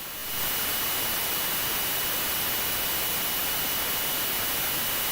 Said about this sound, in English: the engine sound is bearable